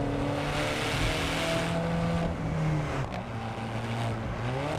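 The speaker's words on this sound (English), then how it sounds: "The engine, as ever, is just sort of whooshing, pooping and doing all sorts of weird noises from the back end." An Alfa Romeo 4C's rear mid-mounted engine driven on smooth Alpine roads, a steady loud drone with whooshing turbo sounds and shifting pitch, tone dipping and rising as the car accelerates, with no talking.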